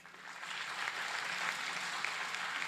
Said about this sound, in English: So can we have a round of applause for this audience?